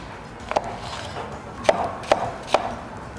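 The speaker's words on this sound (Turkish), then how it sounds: "Ve hemen biberlerimizi doğramaya başlıyoruz." A knife chops sweet peppers on a board in four sharp strikes, one alone and then three evenly spaced, against a quiet background.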